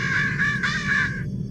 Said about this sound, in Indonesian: ketika perempuan itu datang kembali dengan topeng, gagak-gagak ini kembali bersuara dan ribut